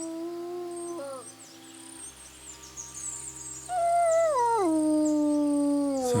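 A dog howls in Kingdom Come: Deliverance II, long sustained tonal wails that bend downward, a quieter howl first, then a louder, closer one over a steady low ambient hum.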